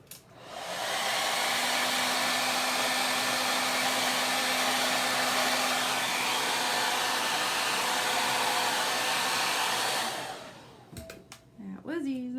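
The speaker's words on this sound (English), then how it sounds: "hit both of those with the dryer quick" A hair dryer whirs loudly and steadily for about ten seconds, drying chalk paste on a craft project, then switches off, leaving a brief quiet moment and some faint handling noise.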